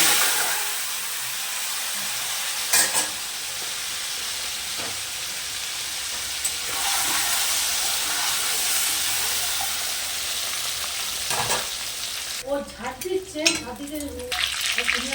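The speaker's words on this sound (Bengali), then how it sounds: "এবার আমি ডিমগুলোকে ভেজে নেবো" Eggs frying in hot oil in a pan, a loud continuous sizzle and hiss close up, with scattered clinks of utensils against the pan and a burst of spattering near the end.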